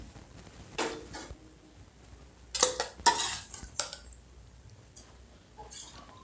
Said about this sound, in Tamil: இப்போ அந்த பாலில் நம்ம வேக வச்சு வச்ச ஜவ்வரிசியை சேர்த்துக்கலாம்